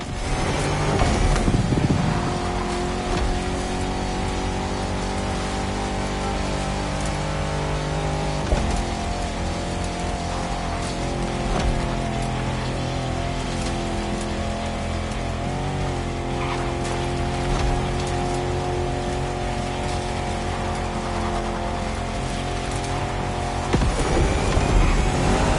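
A Jeep Rubicon on 33-inch tyres driving in the racing game The Crew Motorfest in Dubai: a loud, sustained engine drone with shifting pitch, gear changes and bursts of revving, heard throughout without speech.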